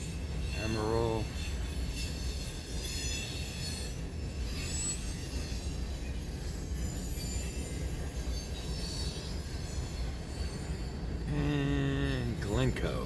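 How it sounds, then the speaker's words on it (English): A westbound freight manifest train rolls past in Fremont, Nebraska, its wagons rumbling and wheels squealing steadily close by, with a sharper squeal near the end and a voice talking over it. "And the end of our westbound manifest. here in Fremont, Nebraska."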